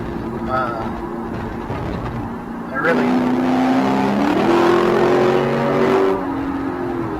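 A Lexus GS F's 5-liter V8 engine drones and then rises in pitch as it revs up, loud and close, with a rough, throaty tone over steady road noise.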